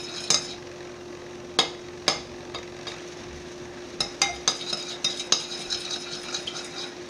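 Eggs being roughed up with a spoon in a pan, sharp metallic scrapes and taps at an uneven pace, quickening toward the end, over a faint steady hum.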